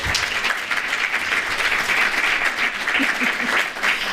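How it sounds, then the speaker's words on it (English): Conference audience applauding a presenter at a morning session, dense continuous clapping from a roomful of people, fairly loud and even throughout, with faint voices murmuring underneath. "Round of applause for Rowan"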